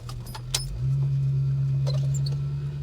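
A Holden HK car idles low and steady as it pulls back into a driveway, the engine rumble swelling a little partway through, with a few faint clicks and jingles near the start and no talking.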